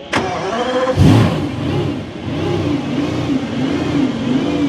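A car engine and exhaust revving loudly up close, beginning with a sharp blip and a surge near the first second, then settling into a throbbing, wavering idle with rhythmic pulsing.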